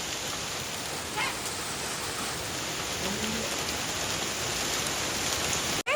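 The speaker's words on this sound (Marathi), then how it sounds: "ह्या बेकार गारा पडतायत" Dense, steady pattering of large hailstones drumming on a car body nearby, continuous for several seconds with a brief cutoff near the end.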